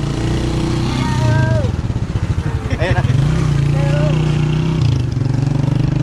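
A Honda Wave 125 motorcycle engine idles and revs nearby, a steady low putter with a brief throttle blip in the middle, while a person speaks briefly over it.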